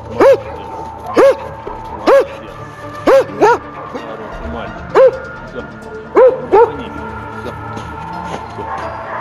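A dog barking in short loud yips, about nine barks in irregular bursts, some in quick pairs, over faint background noise.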